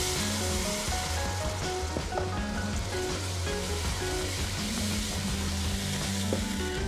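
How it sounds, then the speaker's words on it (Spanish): Milk poured into a sizzling flour roux in a pan for macaroni and cheese, giving a steady, close frying hiss with bubbling and stirring throughout and no voices. "le vamos a agregar una taza de leche"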